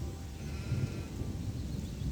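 Sheep bleat on a farm in the fantasy video game Gothic 2, soft and somewhat distant beneath a steady ambient game background drone.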